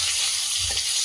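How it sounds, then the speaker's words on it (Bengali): Pieces of freshwater pairra fish frying in oil over a wood fire, giving off a steady, close, dense sizzle with no one talking. "আর কাঠের জালে এই মাছ ভাজা হচ্ছে"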